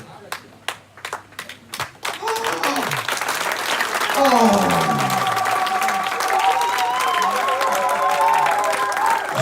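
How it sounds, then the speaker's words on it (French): A church congregation claps and cheers at a revival service with a pastor, starting with a few loud separate claps and swelling into sustained applause under singing and voices. "Même tes acclamations sont trop fatiguées,"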